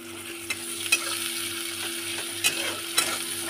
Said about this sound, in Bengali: গোটা জিরে ফোড়ন দিয়েছি, তার সাথে পেঁয়াজটাও দিয়ে দেবো।